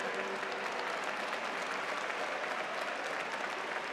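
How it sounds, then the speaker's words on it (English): A large audience at a university commencement ceremony applauds the graduating class of 2022, dense sustained clapping filling the space, steady and fairly distant, with no voices above it. "Let's have a round of applause for them."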